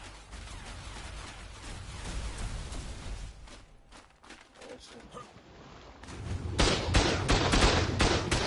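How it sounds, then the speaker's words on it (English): Turret gunfire in the survival game Ark: Survival Ascended on the Astraeos map, dense bursts and volleys rattling continuously, loudest toward the end, with a player's voice faintly underneath. "they got turrets above us now"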